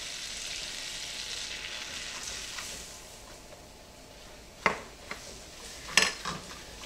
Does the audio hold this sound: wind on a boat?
no